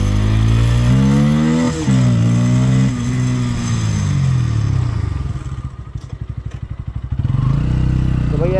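A Bajaj Pulsar N160 motorcycle is ridden and braked hard, its engine note rising and falling loudly up close, then dropping into a low, rapid chuffing idle-like pulse as it slows before building again.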